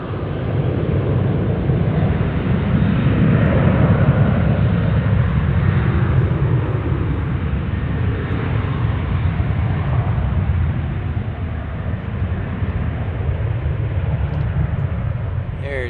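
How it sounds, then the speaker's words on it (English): An Emirates heavy airliner takes off on the east side of DFW airport, giving a steady, broad jet roar with deep rumble that holds at an even loudness throughout, heard from a distance. "our Emirates is taking off on the east side of the airport"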